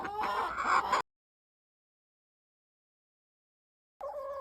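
Chickens in their pens cluck loudly and close by for about a second while they eat cheese whey mixed with food scraps. Silence follows, then another short burst of clucking.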